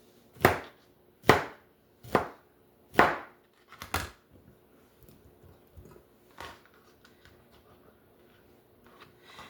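Pineapple being cut into pieces on a cutting board: four crisp, evenly spaced knife chops near the start, then a few lighter, fainter cuts trailing off amid quiet room noise.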